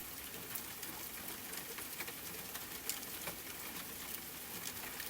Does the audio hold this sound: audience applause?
no